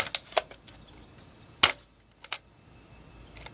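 A Nerf N-Strike Elite Strongarm revolver-style blaster fires, giving sharp, close plastic snaps, one strong shot with several lighter clicks and pops around it in a quiet room.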